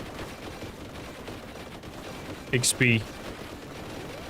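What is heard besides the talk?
gunfire in the video game Warhammer 40,000: Boltgun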